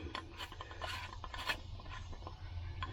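An adapter gasket being screwed onto a small alcohol camping stove, giving soft close ratcheting clicks and faint metal scrapes in a quiet, uneven sequence.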